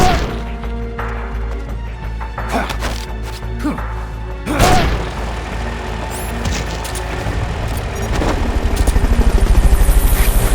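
Helicopter in the video game Metal Gear Solid: Peace Walker, a loud rotor roar with metallic whacks and crashing impacts early on, then a thumping rotor beat that swells louder toward the end.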